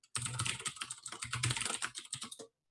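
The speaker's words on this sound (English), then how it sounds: "I apologize, I realize now, for the keyboard, it is a little bit loud." Typing on a rather loud computer keyboard, a rapid run of close, crisp key clicks lasting about two seconds before stopping.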